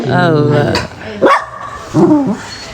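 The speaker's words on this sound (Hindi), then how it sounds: "ये भौंकता है ना, मतलब ये तो बहुत कम भौंकता है।" A pet dog barks at home, two or three sharp close barks breaking through a person's loud nearby talking.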